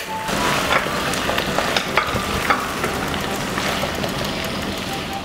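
Tofu and chicken stir-fried in oyster sauce with scallions, a loud continuous sizzle with scraping spatula strokes and clatter in the pan, faint talking in the background.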